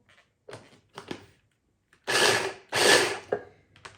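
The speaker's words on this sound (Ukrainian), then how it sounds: "Крихту, яку ми пересипали в блендер, трошки переб'ємо." A kitchen blender pulses cake crumbs for a drunken cherry cake, two short, loud whirring bursts close by, with quieter handling clatter before and after.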